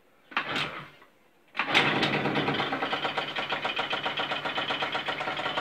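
A scooter engine kicked over: a first short kick that fails, a pause, then a second kick catches and the small engine idles on close by with a steady, rapid putter.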